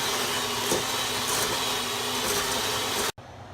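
Cookie ingredients, including sugar, being whisked together in a bowl, a steady continuous whirring and scraping for about three seconds before stopping abruptly, with no talk.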